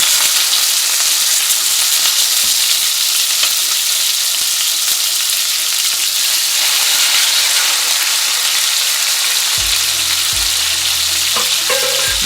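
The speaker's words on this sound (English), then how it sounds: "So gently put the steak in the cast iron pan and try to put the steak away from you." A steak sears in a hot cast iron pan, a loud, broad, steady sizzle that hisses continuously close up, with a low tonal hum entering near the end and no voices.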